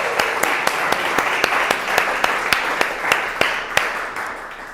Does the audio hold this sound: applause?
yes